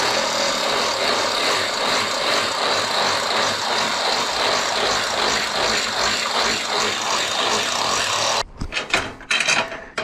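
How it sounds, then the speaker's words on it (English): A drill fitted with a thick high-speed stainless steel bit enlarges bolt holes on a DIY PVC trailer, giving a loud, steady whirring grind for about eight seconds before cutting out into a few brief clanks and handling noises. "The next tool I'll be using is a drill with a thick, high-speed stainless steel bit, just to expand on those holes"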